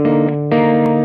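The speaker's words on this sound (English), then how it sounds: "We do 2 or more notes at the same time." Two or more sustained notes sound together as a chord, with a bright, slightly distorted tone. A brief change in the blend occurs partway through, and the chord rings steadily and loudly throughout.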